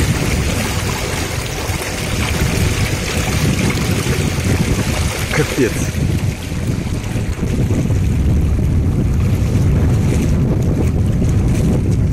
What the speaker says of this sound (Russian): Это не горная река, это Черное море. Все бурлит.